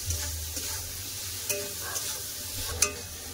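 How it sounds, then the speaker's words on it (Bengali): Chopped onion and tomato with salt sauté in a pan, giving a low continuous sizzle under a few light, scattered scrapes of a stirring spoon. "এবার পেঁয়াজ টমেটো ভালো করে কষে নেবো"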